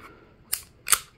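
A Smith & Wesson 6906 pistol part is pushed into place, producing two quick metallic clicks half a second apart, close and crisp against quiet.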